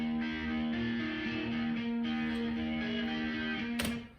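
A crunchy, distorted electric guitar plays a sustained, steady riff at a constant loud level, ending with a sharp strum before fading out.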